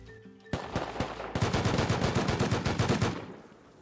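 AK rifle fire in a video game, with a few single loud cracks followed by a long, rapid automatic burst that rattles on for about two seconds, close and dominant.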